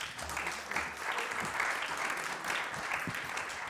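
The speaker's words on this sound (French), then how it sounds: "Merci de l'applaudir." An audience at a conference breaks into steady applause to welcome the director general, a dense even clapping that holds near and loud for the whole stretch.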